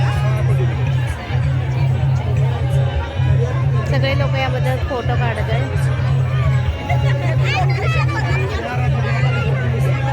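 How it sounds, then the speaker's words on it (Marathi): A dense crowd at the Pawana riverside fair in Pune fills the air with constant chatter and babble, with a low steady hum beneath and one nearby voice talking over it. "खूप म्हणजे खूप जास्त गर्दी आहे."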